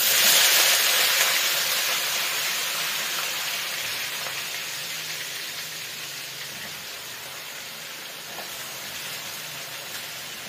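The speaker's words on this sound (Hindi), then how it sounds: "अब आप ये देखें कि ये बैंगन जो है ये भी फ्राई हो रहे हैं" Eggplant pieces fry in hot oil, giving a loud, even sizzling hiss that fades slowly across the clip, with no voices.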